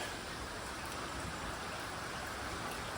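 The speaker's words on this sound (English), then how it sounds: "The rain is starting to slow, but it's up over the sidewalk area." Steady rain pours into a courtyard with poor drainage and water backing up, a dense continuous hiss of drops on hard surfaces with no voices.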